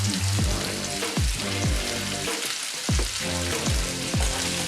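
Saltfish with seasoning and black pepper stir-fries in a hot pan with a loud, steady sizzle, broken by repeated dull thumps of the utensil turning the food at a slow, regular pace.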